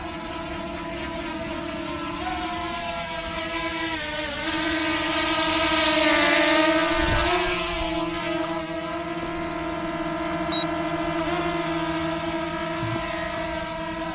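A small Kai One Pro drone flies at its second speed setting, making a steady, buzzing propeller whine that holds throughout, swells slightly as it passes nearer, and shifts pitch now and then.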